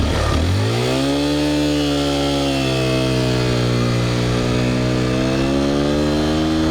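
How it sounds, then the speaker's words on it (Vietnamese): A manual-clutch motorcycle engine fires up right at the start and settles into a loud, steady running drone. Its pitch rises and then holds level, close by, with no voices. "Nếu khi đang tập mà bạn bị chết máy như thế này, bóp côn vào, đề và tiếp tục tập lại từ đầu."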